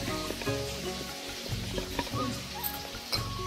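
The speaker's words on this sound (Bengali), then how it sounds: "চলো মাছ ভাজাটা করে মিক্সারটা করে নিয়ে আসি।" Fish sizzling as it fries in a pan of hot oil, a steady close crackle with a few sharper pops and clatters of stirring, no voices.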